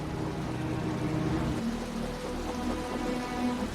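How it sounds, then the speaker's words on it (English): Heavy rain pours steadily in the video game Wuthering Waves, a dense continuous wash with a low rumble beneath, loud and close with no voices. "The rain's getting heavier."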